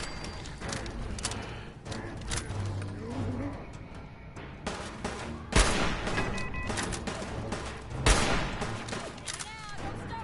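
Bursts of enemy gunfire in Fallout 4 at a brewery, sharp cracks and rapid volleys over scattered in-game noise and mechanical clatter, with talking mixed in.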